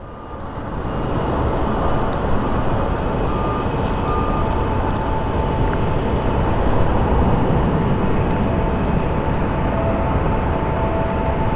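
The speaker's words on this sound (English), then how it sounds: "And now we have our little Embraers coming in." An Embraer regional jet arriving at Phoenix Sky Harbor airport, its loud, steady engine roar and rush holding strong and continuous from start to finish, with no voices over it.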